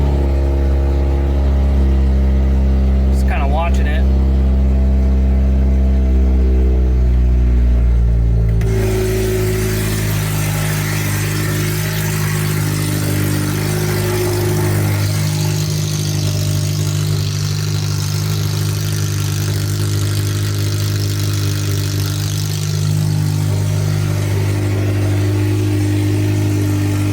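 A Ford SVT Focus engine just installed and started for the first time, with no coolant in it, holds a steady high idle. The loud, continuous rumble runs alone after an initial quieter start.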